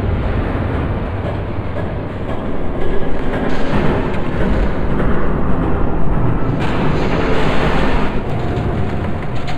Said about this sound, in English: There's a train coming.